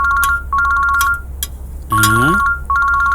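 A phone rings with a repeating electronic ringtone melody in a household scene of a dubbed horror film. The bright tones cycle steadily and are briefly interrupted by a short voice in the middle.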